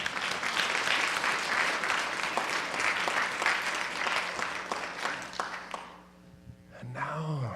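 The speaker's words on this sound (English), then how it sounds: "Please give a round of applause to our 8" Audience applause at a spiritual talk, a dense steady wash of many hands clapping that fades out near the end as a voice begins speaking.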